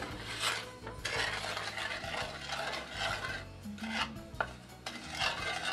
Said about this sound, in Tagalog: Haluin maigi hanggang sa matunaw bago isunod ang arinang malagkit. Walang tigil na paghalo ang gawin.